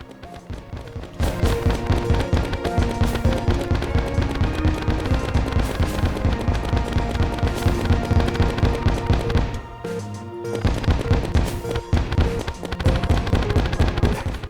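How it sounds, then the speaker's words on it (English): The exo rocket launcher in Terraria with the Calamity mod fires nonstop, a loud rapid barrage of crackling explosions and booms layered over music, broken by one brief pause before the onslaught resumes. "Launches a powerful exo rocket to nuke everything and anything."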